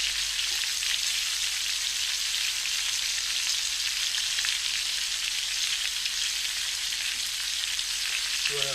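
Flounder frying in a pan gives a loud, dense, unbroken sizzle that holds steady from start to finish with no pauses.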